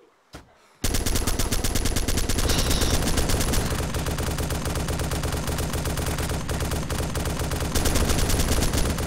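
Sustained rapid machine-gun fire from a mounted gun in the Arma 2 military video game starts abruptly after a brief pause and hammers on loud and steady, without a break.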